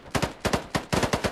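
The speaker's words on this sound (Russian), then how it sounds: "Кто по мне стреляет? Сейчас как постреляю" Rapid gunfire in the first-person shooter game Polygon, a dense series of around a dozen loud, sharp shots in quick irregular bursts, near and punchy with no talking.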